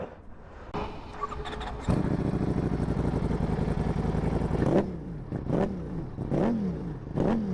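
A Ducati Streetfighter V4 sport motorcycle engine cranks and catches, idles with a throaty rumble through its twin exhaust, then revs up sharply several times in quick, rising bursts nearby.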